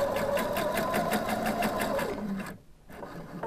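A sewing machine runs a fast, even stitch along the edge of a slit facing, loud and close, then stops briefly near the end before a softer resumption.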